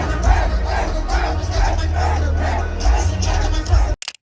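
A huge stadium crowd roars and cheers at a concert overseas, a dense, sustained wall of voices with surging waves that cuts off abruptly near the end.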